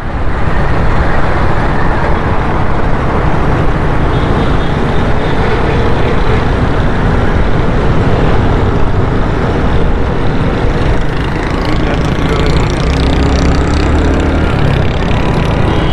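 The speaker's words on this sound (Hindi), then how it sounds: "ये देखो कैसे मोटरसाइकिल चलाते हैं।" Motorcycles ride through busy road traffic, heard as a loud, unbroken roar of engines and road noise from up close, with no talking over it.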